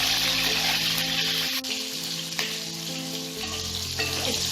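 Five whole potatoes, lightly salted, fry in hot oil for a mutton biryani, giving a loud, continuous close sizzle with occasional soft clinks and shifts, no voices.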